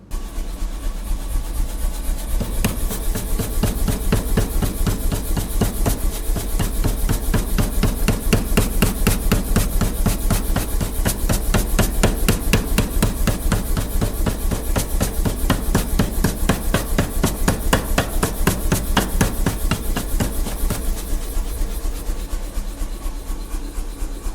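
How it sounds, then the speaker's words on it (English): Pneumatic electric power hammer with a built-in air compressor at a blacksmith's forge, pounding in a fast, steady, loud rhythm of blows that runs continuously without pause. "So that's the electric hammer. It's, well, you'd say it was pneumatic."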